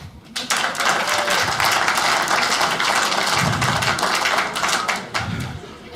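A crowd claps for several seconds, dense and steady, then the applause tapers off near the end.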